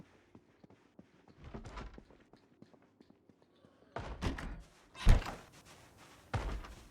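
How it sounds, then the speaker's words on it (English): Zombie banging on a door in the Project Zomboid video game, a few heavy thuds and knocks with quieter scattered taps and background game noise before them. "I hear a zombie banging on a door"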